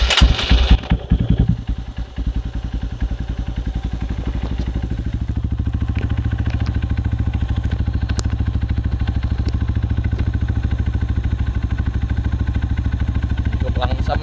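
A Honda CRF 150L supermoto fitted with an aftermarket BRT Juken 5 ECU starts with a brief rough burst, then settles into a steady, even idle with a rapid pulsing beat, close and loud, without talking.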